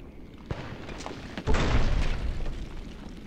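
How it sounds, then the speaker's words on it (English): Explosives detonating in the video game Fallout New Vegas: a sharp pop, then a loud booming blast with a rumbling tail that slowly fades, heard alone. "let's just put some explosives down"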